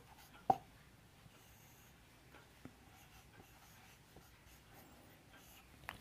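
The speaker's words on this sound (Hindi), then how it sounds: "लिखेंगे श्री धराचार्य सूत्र" Chalk or a marker writing a formula on a board makes quiet, sparse taps and short scratchy strokes, with one sharper knock near the start, in an otherwise hushed room.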